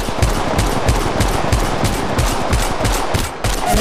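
Rapid automatic gunfire in Apex Legends Mobile, a loud, close, evenly spaced stream of punchy shots hammering without pause, with a short dip near the end before firing resumes.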